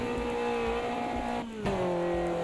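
A Caterham car engine in a racing sim game holds a steady, loud drone with clear harmonic tones, dips briefly as if lifting off, then returns at a shifted pitch.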